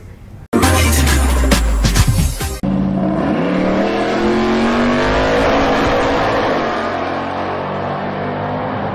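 A car engine catches with a sharp loud burst and revs hard, then settles into a sustained, rising motor drone that slowly fades.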